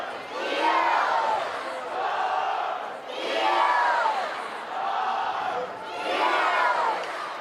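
A large crowd murmurs and cheers at a women's college soccer match between North Carolina and Virginia at Dorrance Field in Chapel Hill, the noise swelling and easing in waves from moderately distant stands.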